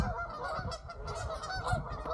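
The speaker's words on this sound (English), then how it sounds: "Lots of geese right now." Geese honk repeatedly at a state park lake, a dense overlapping chorus of calls over steady outdoor background noise.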